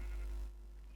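A Minecraft sheep on a sheep farm gives a short, loud bleat that fades after about half a second, with no talk over it.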